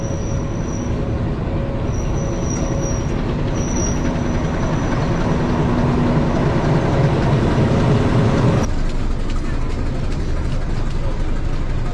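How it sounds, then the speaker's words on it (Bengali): A local commuter train rolls past a station crossing in northern Bangladesh, a loud, continuous rumble of railcars with wheel squeal and clickety-clack throughout, ending abruptly near the close. "সেই ক্রসিংটা হয়ে গেল, সেই ট্রেনটা চলে গেল"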